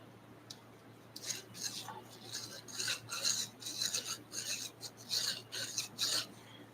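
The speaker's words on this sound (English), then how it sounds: "you're barely going to get anything happening when you go after them with a file" Metal file rasping at a burr on a hardened gear tooth, a series of short close strokes in irregular rhythm that start after a quiet second, fairly soft over a low steady hum.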